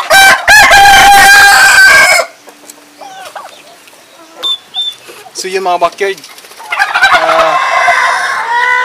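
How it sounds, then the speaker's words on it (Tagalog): Chickens crow loudly and cluck nearby, with a rooster's crow standing out and a person talking briefly amid the birds. "Ang ingay-ingay na talaga ng mga manok natin."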